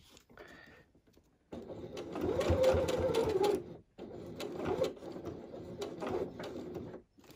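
A domestic sewing machine stitches a fabric tote bag in bursts, a steady whirring run of about two seconds, a pause, then a longer run with slight speed changes, close and fairly loud with no talking.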